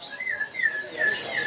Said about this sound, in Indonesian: Nah, ini ada namanya burung jalak suren ya